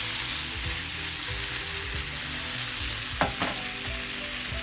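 Just Egg scramble sizzling in a pan after being flipped, a constant close sizzle with a low hum beneath and a brief scrape of the spatula near the end.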